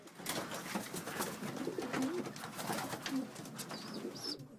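Racing pigeons coo steadily in a loft, several birds overlapping in soft, throaty calls at close range, with a rustling background and a few brief higher chirps near the end; no one speaks.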